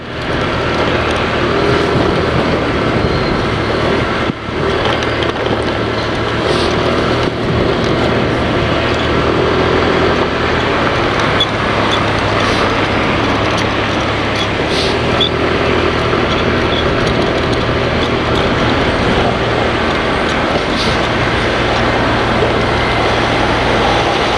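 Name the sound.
10-wheeler trucks passing on the road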